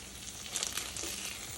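Chicken goes back into a hot pot with fresh herbs, giving a soft, brief sizzle and rustle with small crackles, heard faintly on its own.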